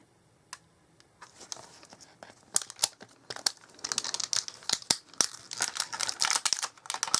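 Paper crinkles and rustles during card making with stamps, starting with sparse crackles and building into dense, close, irregular crumpling.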